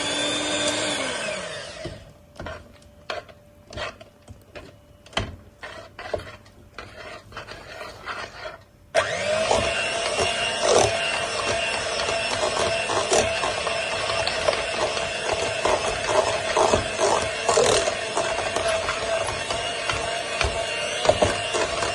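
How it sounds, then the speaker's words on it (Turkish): A mixer whips a packet of whipped cream powder with half a glass of milk, starting with a few sharp beater clicks and taps, then running as a steady, loud, continuous whirring and rasping whir until the end. "1-2 dakika çırpıyorum."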